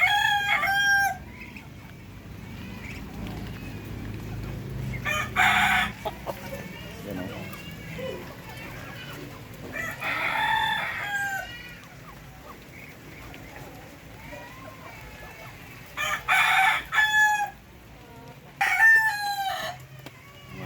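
Darag native chickens on a farm, roosters crowing loudly several times at intervals, with clucking between and people talking quietly in the background.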